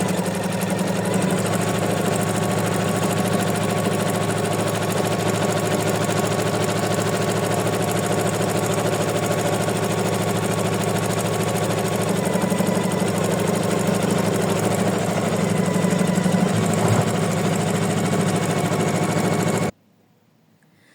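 An embroidery machine stitches white thread on white hearts, a steady close mechanical whirr with a fast rhythmic hum running without pause for about twenty seconds before cutting off abruptly.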